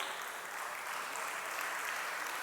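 A church congregation applauds during a service, a steady wash of clapping from many hands, fairly faint and even throughout the short stretch.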